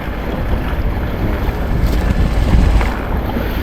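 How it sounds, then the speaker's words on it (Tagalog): Strong wind buffets a boat at sea in the Pacific Ocean, a steady, loud roar of gusts and microphone wind noise mixed with rushing water, swelling slightly midway. "malakas pa rin ang hangin oh"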